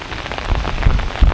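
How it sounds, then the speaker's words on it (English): Heavy rain pours down in Puerto del Carmen, Lanzarote, during severe weather, making a loud dense patter with heavier low thumps of drops hitting close by. "It's one pouring rain."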